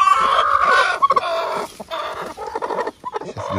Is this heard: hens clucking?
yes